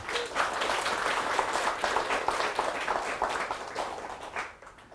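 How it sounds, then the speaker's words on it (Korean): An audience claps together at a lecture, a dense, sustained round of applause that holds steady for several seconds before thinning out and fading at the end. "네, 박수."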